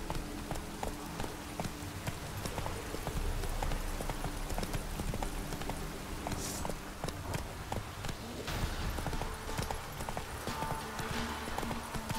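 Roach the horse trots in The Witcher 3, hooves clip-clopping in a quick steady rhythm close by, with faint ambient game sounds underneath.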